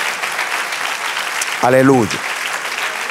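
A church congregation claps steadily through the whole stretch, a busy wash of hands, while a voice calls out briefly over the applause.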